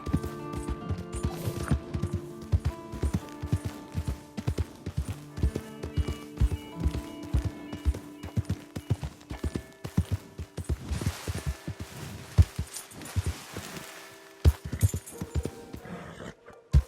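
Horse hooves clip-clopping in the video game Red Dead Redemption 2, a steady run of close, crisp footfalls over game music, with no voices heard.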